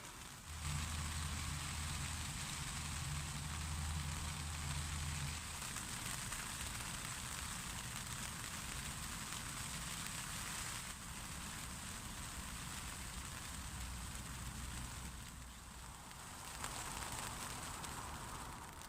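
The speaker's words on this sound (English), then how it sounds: "when it's raining like this" Steady rain patters continuously on a French army F2 tent nearby, a soft even hiss with no voices.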